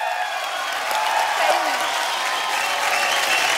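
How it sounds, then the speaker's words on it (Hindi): A studio audience on a TV cooking competition show applauds steadily, a dense wash of clapping that holds at an even level throughout. "इनके लिए जोरदार तालियां हो जाए"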